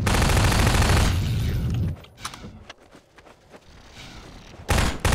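Dense, loud automatic gunfire from the Half-Life 2 lighthouse battle rattles for about two seconds. It then drops to scattered, quieter shots and footsteps before a final loud burst.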